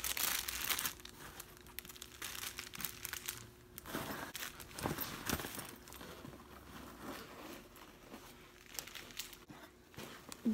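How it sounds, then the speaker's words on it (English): Plastic granola bar wrappers crinkle and rustle in steady, close handling from a backpack, with bursts of crackling that continue throughout and no speech. "Granola bar wrappers."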